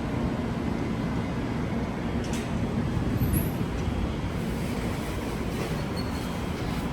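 Busy railway station ambience while waiting for a train: a steady, loud low rumble of rail and traffic noise continues throughout, with no clear voices.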